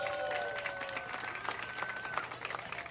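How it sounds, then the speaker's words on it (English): Audience applauding performers from Chicago at a Cinco de Mayo dance performance in Cincinnati, a steady dense clapping that fills the whole stretch, with some tonal music or cheering faintly audible underneath. "Give them another round of applause."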